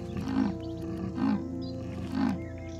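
A young female leopard gives three deep, rasping calls in a steady sawing rhythm, close and loud against a low background hum.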